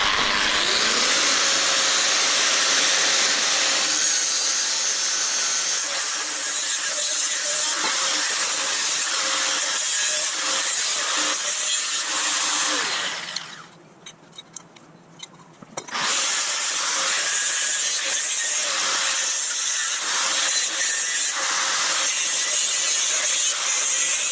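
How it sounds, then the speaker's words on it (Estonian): A power tool cuts a part off a metal panel on a BMW E46 fitted with a V8, a loud, steady grinding whine that stops briefly midway and then resumes, with no talk. "Nüüd on vaja see siit planšist maha lõigata."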